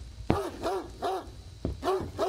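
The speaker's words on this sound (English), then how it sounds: "Max, stop barking!" A dog in the Greyhill Incident video game barks in a repeated series of sharp, loud woofs: two clusters of barks with a short gap between them, close and clear with no speech over them.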